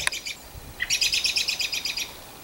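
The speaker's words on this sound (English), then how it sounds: "Nice to be out here with the birds. I can hear them, but I can't see them." Birds chirp in garden trees on a spring day, close and clear. A short burst of trills is followed by a rapid run of bright, repeated chirps lasting about a second, over quiet outdoor background.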